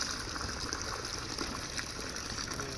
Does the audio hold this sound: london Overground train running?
no